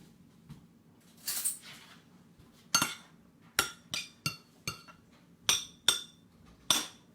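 Spoon or utensil clinking against a dish while lemon is mixed into veggie rice, a series of sharp, separate taps and scrapes, close and fairly quiet with no talking.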